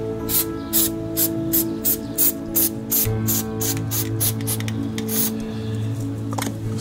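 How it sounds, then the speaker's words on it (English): Silicone spray from an aerosol can applied during caravan cleaning: a rapid series of short hissing bursts, about a dozen, close and fairly loud over a steady low background hum. "spray of silicone"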